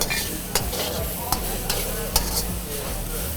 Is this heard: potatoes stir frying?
yes